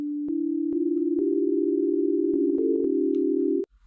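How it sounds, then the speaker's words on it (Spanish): Pure electronic tones sounding together, a steady loud hum with further tones stacking on in small steps and a few faint clicks, then cutting off abruptly. "si yo junto todas estas frecuencias y las empiezo a hacer sonar juntas"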